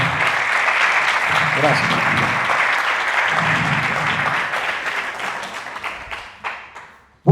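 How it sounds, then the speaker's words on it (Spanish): A conference audience at the SecAdmin 2025 security event applauds steadily for several seconds, dense clapping fading toward the end, with a voice speaking briefly over it. "un fuerte aplauso, ya que vinieron a acompañar"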